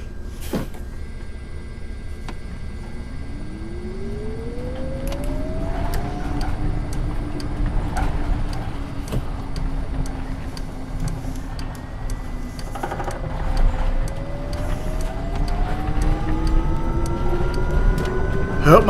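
A Mercedes eBus driven in the OMSI 2 simulator in Düsseldorf hums with a rising electric motor whine, road noise and occasional rattles, steady throughout, with someone talking over it.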